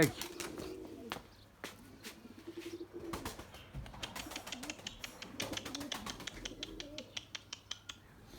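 Pigeons cooing softly in a loft amid scattered tapping and fluttering, faint and close, with someone talking quietly in the background.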